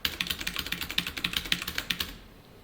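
Rapid, quiet typing on a computer keyboard, about twenty crisp key clicks in an even run that stops abruptly, with no voices.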